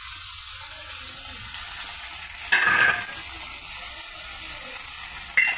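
Cut okra (lady fingers) sizzling steadily in a hot pan for a tomato fry, a close, continuous frying hiss with a brief stir or clatter partway through and a small knock near the end.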